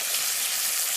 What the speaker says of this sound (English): you can hear that our bacon is sizzling, the juices are getting just ready